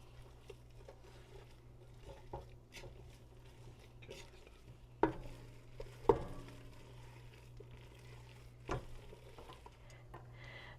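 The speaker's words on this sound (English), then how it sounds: "Start breaking it up and heating it through and stirring it all together." Farm-fresh white American cheese being stirred and heated in a pot on low heat, quiet scraping and soft patter with a few distinct knocks of the utensil against the pot, under a steady low hum.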